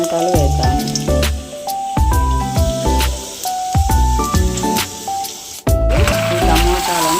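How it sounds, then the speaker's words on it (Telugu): Washed, chopped tomatoes drop into a hot pan for tomato chutney, giving wet squishing and splattering sounds up close, with loud clatter and stirring over steady background music. "ఇప్పుడు మనం కడిగి కట్ చేసి పెట్టుకున్న టమాటాలు వేద్దాము"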